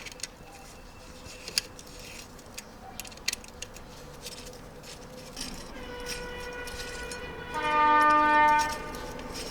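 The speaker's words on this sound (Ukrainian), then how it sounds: "Чи потяг гудить там." A train horn sounds in the distance, a sustained tonal blast rising near the end over quiet outdoor background noise with small clicks and taps from bicycle work nearby.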